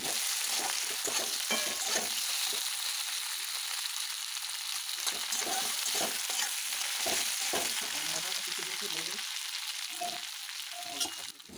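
Fish head frying with onion in a pan while being stirred, for a Bengali fish-head and banana-flower dish; steady close sizzling with repeated scraping and stirring strokes throughout, no voices.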